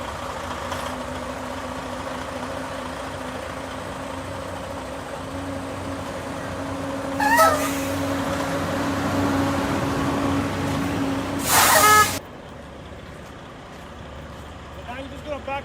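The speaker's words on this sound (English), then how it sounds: "Now what I'm going to do is I'm going to back up the truck and hit the cone on the blind side of the DOT bar." A truck idles and reverses slowly toward a traffic cone in a backing exercise, a steady low engine drone carrying through, with brief louder bursts near the middle and end, likely air brake releases.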